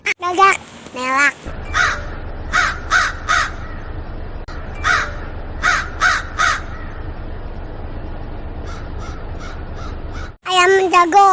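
A crow gives several bursts of harsh, repeated caws, some loud and others fainter, with people talking at the start and end.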